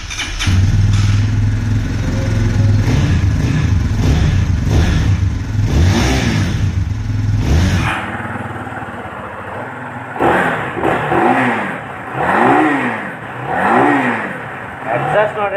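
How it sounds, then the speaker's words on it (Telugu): A Keeway SR 250 motorcycle with a steel exhaust starts up in cool weather and idles high, then blips through several loud, rising revs close by. "ఒకసారి ఎగ్జాస్ట్ నోట్ అయితే విందాం."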